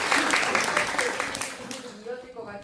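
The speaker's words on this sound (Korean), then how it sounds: "우리 감독님 배우님께 다시 한번 박수 부탁드릴게요" Audience in a Seoul cinema hall clapping for a film's director and actor at a post-screening talk, a dense crackle of many hands close and steady, slowly thinning out toward the end.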